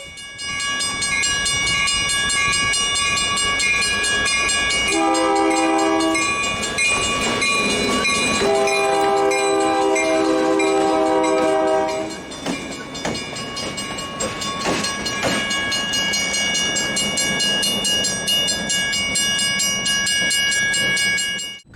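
Central Oregon & Pacific freight train with several locomotives shoving onto the main line, sounding repeated long horn blasts over a steady rumble of engines and rolling cars.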